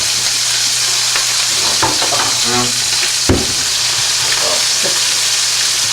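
Chicken breast fries loudly in a pan without a splatter guard, a dense, constant close sizzle with a few sharper pops and one brief louder crackle or clatter partway through.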